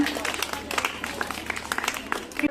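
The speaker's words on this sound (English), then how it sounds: "Give a big clap for them." A crowd applauding at a school English language club event, dense clapping that swells and fades in uneven bursts, with voices mixed in beneath the claps.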